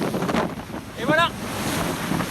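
Blustery wind buffeting the microphone at sea near the equator, with a brief high whistling tone partway through.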